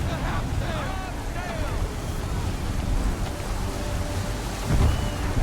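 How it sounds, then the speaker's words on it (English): Storm at sea in Assassin's Creed III, with dense rain hiss, surging waves and a low rumble of thunder near the end, loud and continuous, with faint voices in the mix. "There's a storm coming"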